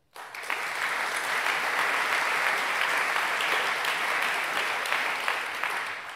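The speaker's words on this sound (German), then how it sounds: "Applaus" An audience applauds at a university rectorate inauguration ceremony, a sustained wash of many hands clapping that starts abruptly and holds steady for several seconds before easing slightly.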